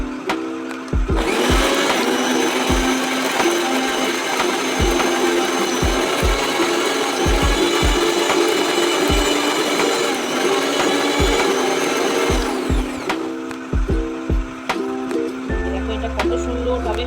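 A mixer grinder whirs loudly and steadily, blending biryani spice paste with a little water for a vegetarian biryani, running for about twelve seconds before it stops and leaves a low hum with a few small knocks.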